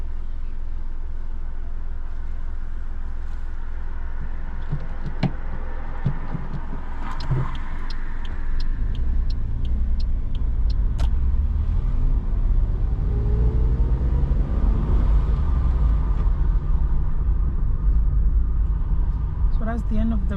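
Car driving on a road in pouring rain during a UK mock driving test, a loud steady low rumble of engine and tyres heard from inside the cabin with occasional knocks and clicks.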